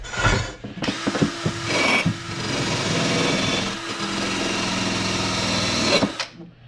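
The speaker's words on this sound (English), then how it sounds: "this wire brush is for those little spots that are tough to get" A handheld wire brush, likely a power tool, grinds against a pitted metal surface with a steady, loud abrasive whir that holds for several seconds after a few brief starts, during a Holley Sniper EFI install on a Datsun J20 engine.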